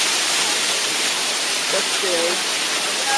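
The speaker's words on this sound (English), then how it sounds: "This is where we're over top of the waterfall." Broad, steady roar of the waterfall at Ruby Falls inside Lookout Mountain, Tennessee, filling the space evenly and loudly, with a few brief voices speaking over it.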